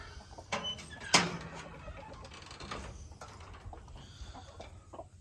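Chickens cluck and murmur inside a coop, with one sharp louder squawk early on and steady soft clucking continuing throughout at close range.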